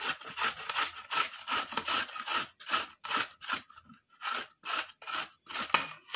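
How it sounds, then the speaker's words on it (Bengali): Carrots for gajar halwa are grated in quick, rhythmic rasping strokes, each one a crisp scrape, close and steady with a brief pause midway. "এইভাবে সব গ্রেট করে নেব"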